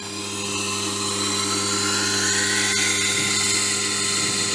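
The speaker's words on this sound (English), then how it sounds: "onto the composite wheel. And I'm just going to deburr that blade." A composite wheel deburrs a freshly sharpened blade, a steady high whirring grind with a constant motor hum underneath, continuous and close throughout with no talk.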